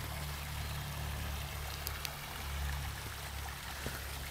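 Water trickles steadily in a backyard pond beside a newly built deck, a soft, even outdoor wash with a low hum underneath and a few faint clicks, fairly quiet and without talk.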